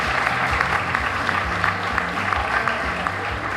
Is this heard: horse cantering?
no